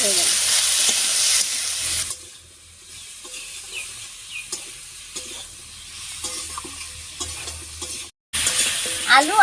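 Potato pieces with salt and turmeric being stirred in a frying pan for a village-style winter vegetable and river fish curry, giving a steady close sizzle with scraping stir strokes, a dip in loudness midway and a brief gap near the end.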